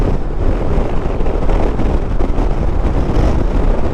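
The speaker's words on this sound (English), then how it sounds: "I hope it's not too windy for you guys." Constant rumbling wind buffets the microphone on a moving 2024 Harley-Davidson Road Glide, a loud, unbroken roar with no clear voice.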